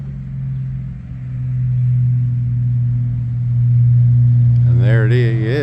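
A Bombardier snow vehicle circles a yard on a test run, its engine a low, steady rumble that swells and fades a little as it moves, and someone speaks near the end.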